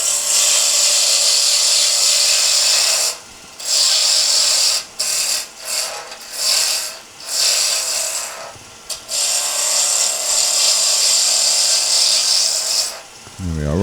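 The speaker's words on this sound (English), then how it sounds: "I'm going to go to the skew chisel in a moment" A skew chisel cuts a corn cob pen blank spinning on a wood lathe, giving a steady, loud shearing hiss with several brief breaks as the tool lifts away, then a short rising whir near the end.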